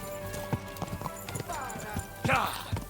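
A horse in the video game Kingdom Come Deliverance 2 gallops with rapid clip-clop hoofbeats, a brief whinny in the middle, while someone talks over it.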